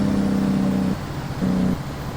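A truck engine in American Truck Simulator, driving through a Sierra Nevada mod, hums with a low steady drone that swells, dips and swells again in two loud pulses.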